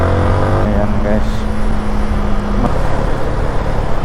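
Rush-hour road traffic of cars and motorcycles on a wet street just after rain, a loud, continuous rumble of engines passing close by with a low steady hum, while a person talks over it.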